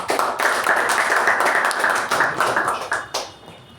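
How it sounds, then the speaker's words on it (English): A room full of people at a Toastmasters meeting clapping, steady applause that carries on for a few seconds before thinning out into a few last claps. "Please help me welcome Toastmaster Ravikumar with a huge round of applause."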